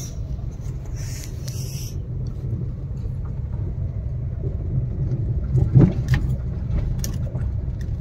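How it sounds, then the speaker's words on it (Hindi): Inside a Maruti WagonR with a K Series engine and front brake caliper noise, a steady low road and engine rumble fills the cabin as the car drives over a rough road. A few soft knocks and bumps come through near the end. "ये देखो रास्ता कितना खराब है, ड्राइव कर रहे हैं अभी।"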